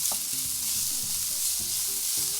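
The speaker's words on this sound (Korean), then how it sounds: "처음엔 센 불로 하고요, 마늘하고 양파부터 볶도록 하겠습니다." Garlic and onion stir-fried on high heat in a pan with about a tablespoon of oil give a dense, steady sizzle, close and loud, with stirring scrapes against the pan.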